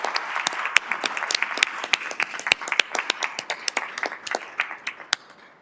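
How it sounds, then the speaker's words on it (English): An audience at a school district governing board meeting gives a round of applause: moderate clapping from a modest crowd in a room, sharp individual claps over a steady patter that tapers off toward the end. "So I want to acknowledge him and give him a round of applause."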